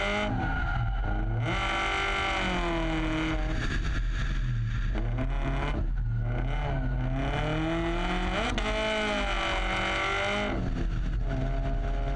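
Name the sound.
race car drifting with tire squeal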